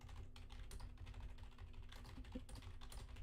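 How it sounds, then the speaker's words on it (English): Loud computer keyboard typing at a streamer's desk, steady rapid clacking keystrokes close to the microphone with a faint electrical hum beneath and no talking. "Ignore the very loud sound of my keyboard typing."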